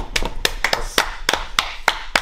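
A few people clap for a participant named Martin after an extremely spicy Samyang 2x Spicy noodle challenge, sharp distinct claps in loose irregular bursts, close and fairly loud in a small room.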